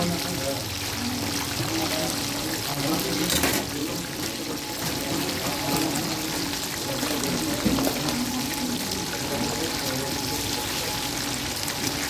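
Water runs steadily from a tap left open at a rustic outdoor fish restaurant in Adana, a constant splashing flow throughout with faint voices in the background.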